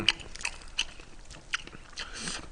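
Close, soft biting and chewing on a fried chicken leg, old-style oil-fried whole chicken, with crisp crunches and wet mastication in irregular bursts, quiet overall.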